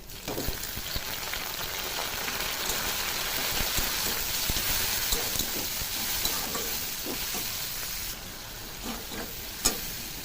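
Prawns fry with onions in a pan for a gourd-greens prawn curry, a steady rain-like sizzle with occasional stirring clicks, near and moderately loud, with no speech.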